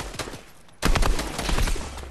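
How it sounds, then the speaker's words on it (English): Fortnite gunfire crackles in quick successive shots, a few lighter pops at first, then a louder sharp cluster of rapid shots after a brief lull, near and punchy. "I shot him for 28 twice."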